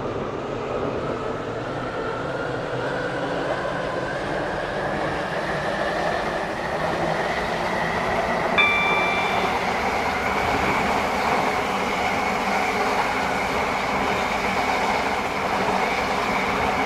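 A Class 730 passenger train on the Waterline service between Newry and Connolly runs steadily on its rails, a continuous rumbling roar with a droning tonal whine that holds level throughout, with no voices.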